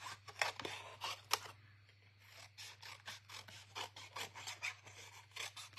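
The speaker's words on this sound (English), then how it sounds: "I'll cut these apart roughly" Scissors roughly cutting apart stamped cardstock, a rapid series of crisp snipping and rasping strokes, close and fairly quiet, with short pauses between cuts and a low steady hum underneath.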